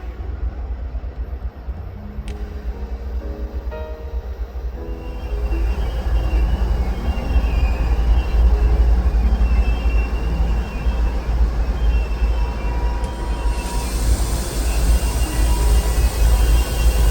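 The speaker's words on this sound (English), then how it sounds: "a CSX manifest pulls up for a crew change" A CSX manifest freight train rolls up in Birmingham for a crew change, a steady loud locomotive diesel rumble with low drone and rail noise that builds and holds close by.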